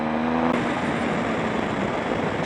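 A 2007 Triumph Tiger 1050 three-cylinder motorcycle pulls hard under acceleration, its engine a dense, steady drone with a low tone that rises briefly, heard close and continuous for a couple of seconds without talk.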